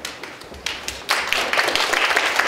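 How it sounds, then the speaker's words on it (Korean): Applause at a university graduate school entrance ceremony: a few scattered claps at first, then a fuller burst of clapping from the audience that carries on steadily to the end, close and lively. "박수 부탁드리겠습니다."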